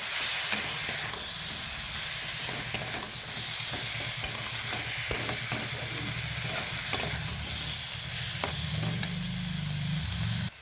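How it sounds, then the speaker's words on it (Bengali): Spices with turmeric for a small-fish chorchori are stirred in a hot frying pan, a steady close sizzle and hiss with scattered scraping taps of the spatula throughout, no talk. "হলুদ দিয়ে ভালো করে নাড়তে হবে, সুন্দর করে"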